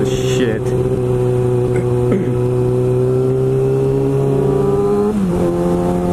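A motorcycle races a car through city streets, its engine droning with steady harmonic tones that pitch up and down across several gear changes, loud and close with wind noise.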